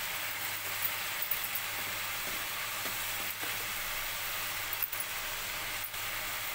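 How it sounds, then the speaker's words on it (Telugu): Ginger garlic paste sizzles and fries in hot oil with turmeric for a village-style mutton curry, a steady close crackle with occasional stirring clinks, and no talking. "ఇప్పుడు అల్లం వెల్లుల్లి పేస్ట్ వేసుకోవాలి."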